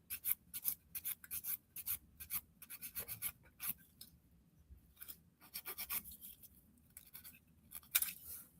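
Acrylic nails being filed straight across with a nail file, a quiet repeated scratchy rasping in short bursts and strokes with brief pauses, close up and alone.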